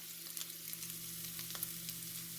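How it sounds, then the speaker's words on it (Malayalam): Crushed spice mix sautéing in a pan for drumstick leaves rasam, a steady close sizzle and frying hiss with faint stirring scrapes, no talking. "നമ്മൾ ചതച്ച് വെച്ച കൂട്ട് നല്ലോണം ഇട്ട് വഴറ്റുക."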